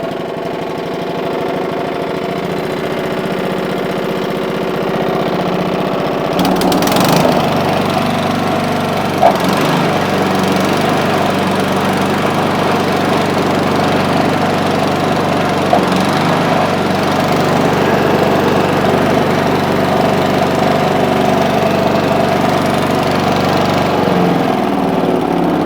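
An Atco Balmoral cylinder lawn mower engine runs steadily and loudly close by, a rough mid-pitched chug with uneven idling and a few sharp knocks, and no talking.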